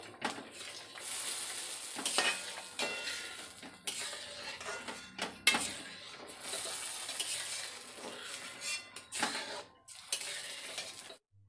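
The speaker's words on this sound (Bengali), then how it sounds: "এখানে মা লুচি বেলা কমপ্লিট ভেজে দিচ্ছে" Luchi, puffed flatbreads, fry in hot oil in a home kitchen during a Lakshmi puja festival. Sizzling swells and fades in bursts, with occasional clinks of utensils and pans nearby and no talk.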